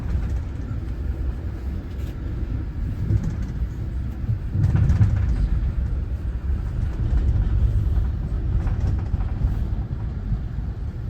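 Passenger rail coach interior on a Boston to Milwaukee trip: a steady low rumble and rolling roar of the moving train, swelling briefly midway, with no voices.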